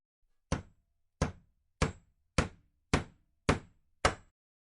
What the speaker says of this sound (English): The sound of a hammer mixed with distant birds singing reaches my ears.